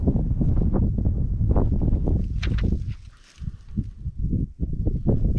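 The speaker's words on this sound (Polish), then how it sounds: "No i się wiatr zerwał." Wind gusts buffet an outdoor microphone with heavy low rumbling and rustling, loud and continuous, easing briefly before surging again.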